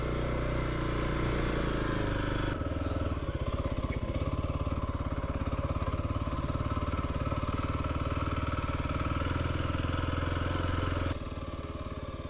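A Kawasaki KLX300 dual sport motorcycle, fitted with a 13-tooth front sprocket, lugs at very low speed, its engine chugging with a steady close thump that shifts character partway through and runs continuously with no talk.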